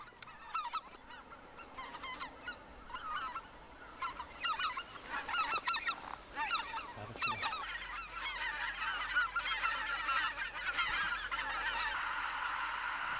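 Huge flock of wild geese returning to a frozen reservoir in winter, a dense continuous chorus of overlapping honks that swells louder and thicker over time, with no talking.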